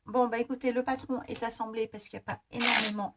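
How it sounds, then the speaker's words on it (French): Adhesive tape is ripped from a roll while a paper sewing pattern is assembled: a short, harsh tearing burst near the end, following and briefly overlapping someone speaking French. "Désolée pour le bruit du scotch."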